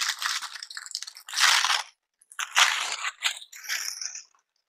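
A Glossybox beauty package is torn open, and its paper crinkles and crunches in several loud, close bursts separated by short silences.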